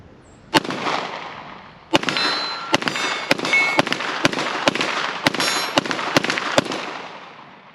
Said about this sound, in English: let's take a few shots with it and see if you guys can notice how flat this gun stays as I'm hitting this target